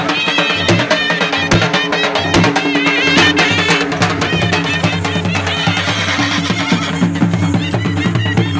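Horses neigh and whinny repeatedly at a horse dance fair in Dadyal, Azad Kashmir, with loud, bright calls over a busy outdoor crowd and sharp clattering noises.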